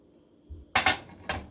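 Beans tipped into a pot of cooking pasta, a few sharp metallic clanks and scrapes against the pot in quick succession after a soft low thud, close and fairly quiet with no talking.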